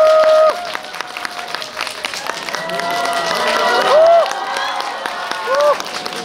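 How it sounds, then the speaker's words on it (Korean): Applause and cheers from a cinema audience welcome actors Won Jin-ah, Jin Seon-kyu and Choi Gwi-hwa at a stage greeting in CGV Yongsan theater 7, with crowd clapping, shouts and excited voices building in bursts. "원진아 씨랑 진성규 씨랑 최기아 씨를 힘찬 박수로 맞이하겠습니다."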